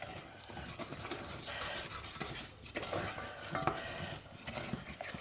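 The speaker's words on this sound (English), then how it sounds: "stir in the flour to the butter" Flour being stirred into melted butter in a pan off the heat, a soft scraping and swishing of a spoon against the pan in a steady back-and-forth rhythm, close and fairly quiet.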